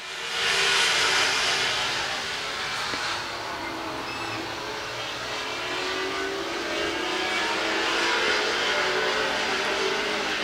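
Late model race cars roaring around the I-44 Speedway oval during a feature race, a steady, dense engine drone from a pack of cars held at a constant loud level with no breaks.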